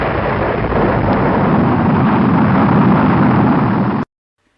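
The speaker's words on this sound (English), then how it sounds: "rockets," Rocket sound effect: a loud, steady roaring rumble full of broadband noise, continuing unbroken for about four seconds before stopping abruptly.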